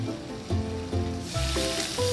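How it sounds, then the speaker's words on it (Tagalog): Butter melts and sizzles in a saute pan, a soft continuous frying hiss underneath tonal music with steady beats, close and moderate in level. "She allowed the butter to melt."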